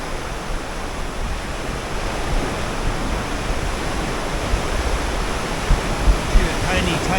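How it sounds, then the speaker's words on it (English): A tiny spill of waterfall trickles down inside a sea cavern on the shore of Mystic Beach, Vancouver Island, a steady broadband rush of falling water and surf-like wash that fills the space without pause. "See a tiny spit of a waterfall coming down right here"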